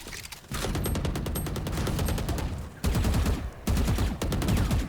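Rapid bursts of gunfire in the Valorant shooter game during a competitive esports match, loud rattling volleys with brief gaps between sprays, heard alone without talk.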